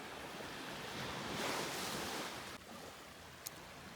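Ocean surf breaks on a beach near Finisterre, a steady wash of rushing waves with a swell of louder surge in the middle, mixed with wind buffeting the microphone.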